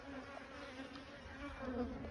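Bees droning around a beehive in good weather, a steady low buzz close by with faint individual insects passing through, no voices.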